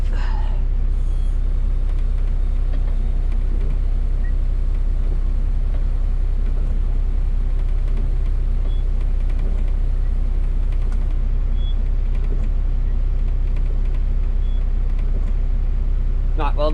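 A diesel injection pump runs steadily for the full stretch on a workbench, a loud continuous mechanical drone with dense low rumble, while voices talk intermittently over it.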